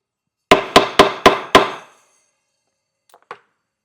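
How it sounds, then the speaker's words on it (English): Five sharp hammer blows strike wood in quick, even succession while building a cajón, loud and close, followed by silence and a couple of faint clicks. "I'm going to go ahead and finish off hammering the top"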